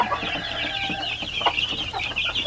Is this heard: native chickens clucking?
yes